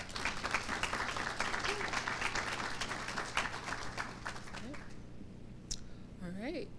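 Audience applause for graduating scholars at a senior celebration, sustained dense clapping that fades toward the end as a voice begins speaking.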